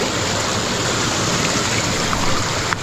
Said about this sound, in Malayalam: കൂടെ വെള്ളം ഒഴുകുന്നുണ്ട്, പക്ഷേ അത്ര വെള്ളം ഇപ്പോൾ കുറവാണ്